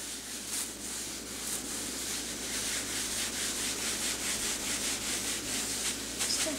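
A damp cloth rubs residue off a kitchen pot in quick repeated strokes, a soft, steady scrubbing texture that stays close and fairly quiet.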